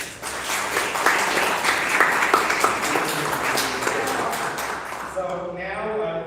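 People at a workshop session give a round of applause, a dense burst of clapping that holds steady for several seconds, then gives way to a voice speaking.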